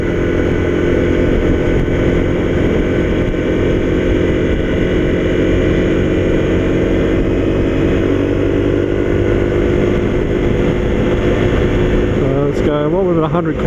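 A Honda CRF250L motorcycle engine drones steadily and loudly while climbing an incline without a downshift, holding a constant pitch throughout with wind rush, and a voice briefly appears near the end.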